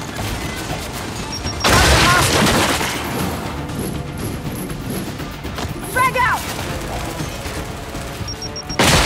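A frag grenade in Gears 5 bursts with a loud, broad blast, followed by sustained gunfire, crashes and clanking battle noise, with voices speaking over the fight.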